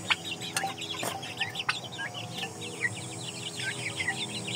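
Shamo and Indio Gigante chickens cluck in a steady, chattering run of short calls at moderate distance, with a few sharp knocks and a faint insect hum underneath and no voices.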